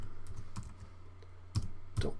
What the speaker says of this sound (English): I'm just going to type this as shell